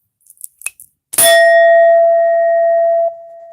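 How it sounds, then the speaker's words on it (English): A few soft taps come first, then a single loud strike on a bell or singing bowl that rings out with a bright, sustained metallic tone, decaying slowly and continuing to hum near the microphone. "they leave whenever I hit that bell. Or whenever I hit my singing bowl"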